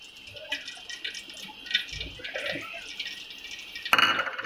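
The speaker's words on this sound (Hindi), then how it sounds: "डालेंगे हम घी" Ghee going into a pot at the start of a chicken pulao: light dripping and liquid trickles with small glassy clinks of utensils, ending in a louder burst of pouring.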